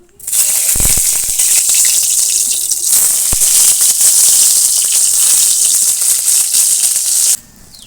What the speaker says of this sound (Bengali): মুড়ি ভাজা হয়ে গেছে এবার বেগুনগুলো ভেজে নেব